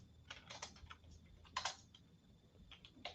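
Typing on a computer keyboard: bursts of quick, light key clicks in an irregular rhythm, close and quiet, with brief pauses between flurries and no speech.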